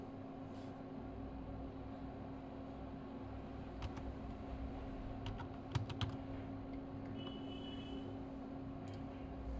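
Someone types a page category on a computer keyboard: sparse, faint key clicks scattered over a steady low background hum, with no talking.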